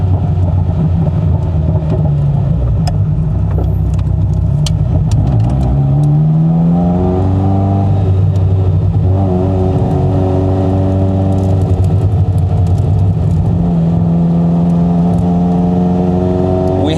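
A Ferrari F40 supercar engine accelerating hard in second gear toward 6,000 RPM on a sunny Florida road, a loud, raw, rising engine note with a gear change partway through, heard continuously up close.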